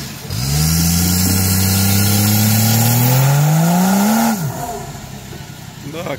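An off-road rally car engine of over 600 horsepower revs up hard and holds a rising, loud growl for several seconds before dropping away abruptly, close to the listener.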